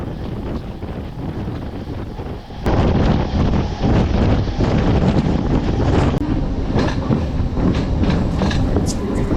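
Narasapur MEMU Express 17269 runs at speed, a loud rushing roar of wheels and wind buffeting close to the microphone, swelling abruptly after a quieter start and staying heavy to the end.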